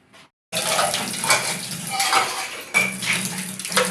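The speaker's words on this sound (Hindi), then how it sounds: "अभी मैंने कहा कि ये बर्तन धो लूँ।" Dishes being washed at a sink, with pots and cutlery clattering and scraping under running water, close and continuous after a brief pause.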